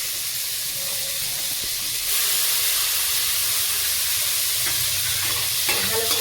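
Water hissing and sizzling in a hot cooking pot while khichuri is being cooked, a steady broadband hiss that grows louder about two seconds in and continues with faint stirring clinks, no talking.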